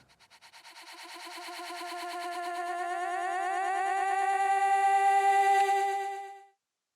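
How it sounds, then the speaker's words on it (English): A synthesized hyperpop-style techno riser swells steadily louder with a rapid pulsing flutter, building tension for several seconds before cutting off abruptly into silence. "creating this build-up riser effect"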